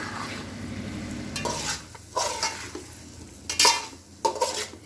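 Thick-cut mushrooms sizzle in a hot pan while a spoon slowly stirs them, scraping and clinking against the metal in short strokes over a continuous frying hiss.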